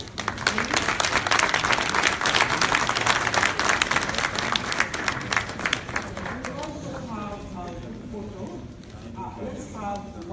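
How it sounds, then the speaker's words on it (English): Crowd applause at an event in Gambia, dense and loud clapping at first that thins and fades in the second half as a voice begins speaking over it. "We all give a round of applause."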